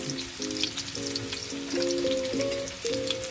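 Potatoes sizzle steadily while frying in a pan as the first step of a home beef stew, with continuous crackling oil and occasional stirring clinks heard close up with no talking.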